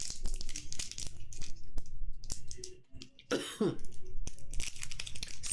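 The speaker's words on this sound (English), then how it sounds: "Excuse my coughing." A person gives a short burst of dry coughing and throat clearing mid-clip. Crinkling noises and brief talk sit around the coughs.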